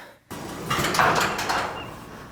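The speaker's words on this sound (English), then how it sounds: "I gotta open the garage door here." A garage door in a home garage opens with a steady mechanical rumble that starts abruptly and continues at moderate loudness, alone without talk.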